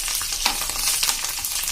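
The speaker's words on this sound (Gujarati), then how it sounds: "આ રીતે આપણે વઘારને એકદમ સરસ કૂક કરશું. આપણી દાળ સરસ સંતળાઈ જાય" Dal sizzling in hot tempering oil in a pan over a medium flame, a steady, close, dense crackle with small pops running throughout.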